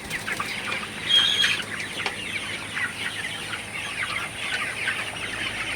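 Chickens in a poultry house give soft, scattered clucks and chirps over a constant fan hum, with one brief sharper call standing out early.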